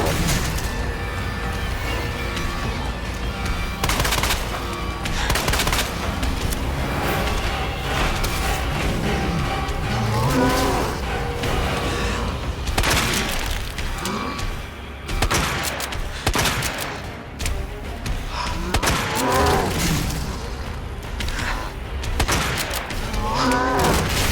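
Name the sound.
pistol gunfire in the video game Resident Evil 2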